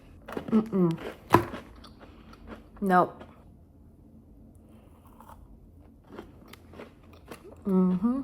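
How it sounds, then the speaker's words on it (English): A crunchy cookie is bitten and chewed, giving a few sharp, close crunches early on between bursts of talking and laughter. "Do you hear that crunch?"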